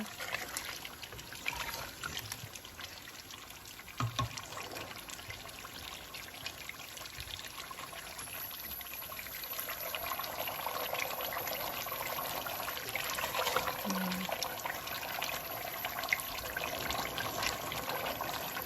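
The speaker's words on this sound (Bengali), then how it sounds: "এখন আমি চিকেনের মধ্যে জল দিয়ে দেব" Water is poured into chicken being cooked for a curry, giving a steady trickling and sizzling wash that builds and stays fairly loud throughout, with no talk.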